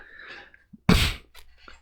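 A single sharp, loud sneeze from someone with chronic rhinitis, preceded by a faint intake of breath and followed by soft sniffling and quiet noises.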